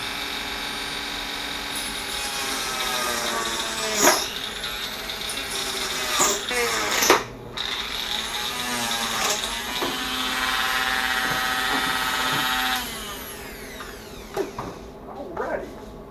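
A power tool grinds and cuts through a welding helmet in a steady, continuous whine with sharper bursts and shifting pitch, close and loud, easing off near the end.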